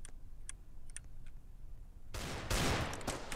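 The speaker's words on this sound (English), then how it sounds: "I got shot by Linspen" Video game gunfire in a 2v2 match: a few faint clicks, then from about two seconds a loud burst of rapid shots that continues to the end.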